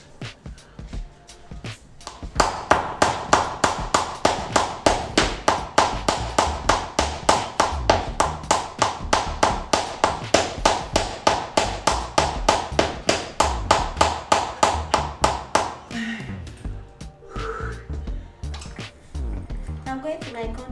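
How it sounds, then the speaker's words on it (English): Hands clap in a brisk, steady rhythm of dozens of sharp claps close to the microphone, lasting about thirteen seconds before fading into softer sounds. "Okay, let's clap."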